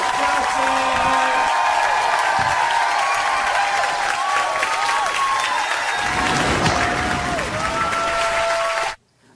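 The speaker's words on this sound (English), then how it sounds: "When we start clapping, make some noise." A stand-up comedy audience applauds and cheers loudly and continuously, with whoops and whistles rising over sustained clapping before it cuts off abruptly at the end.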